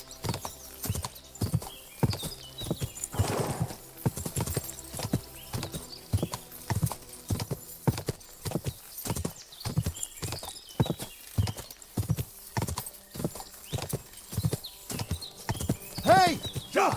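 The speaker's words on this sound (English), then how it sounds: "Horse nearly trampled me!" Galloping horse in Kingdom Come: Deliverance II, steady rhythmic hoofbeats thudding throughout with a neigh partway through, while voices call out over the hooves.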